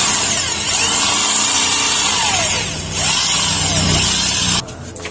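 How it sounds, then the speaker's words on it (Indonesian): A loud power drill grinds steadily for several seconds while drilling for a motorcycle exhaust bolt mount, its pitch sagging briefly under load before cutting off near the end. "Kita lanjut bor dulu lah"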